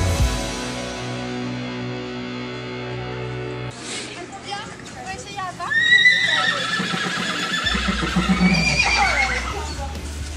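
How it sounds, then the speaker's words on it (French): A horse at an Equifeel competition whinnies several times in shrill, wavering calls, close and loud. A steady tone plays first, then people talk and a low rumble continues underneath the neighing. "Je vous laisse admirer les magnifiques hennissements de Vasco."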